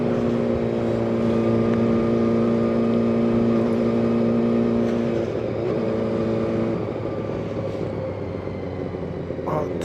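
1989 Honda CBR400R 400cc motorcycle engine running steadily nearby with a strong, even droning hum that eases slightly toward the end.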